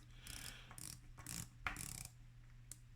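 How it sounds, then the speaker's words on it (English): A 120-click bezel on a RUF500 diver watch with a coin-edge rim being turned, giving a few crisp, close ratcheting clicks in short bursts with brief pauses between them. "The bezel is 120 click. Very solid click."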